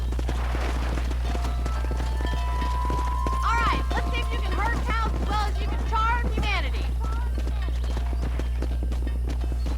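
Horse hooves clip-clop in Red Dead Redemption gameplay, a steady trotting patter mixed with game music, whinnies and other effects, while characters speak over it throughout.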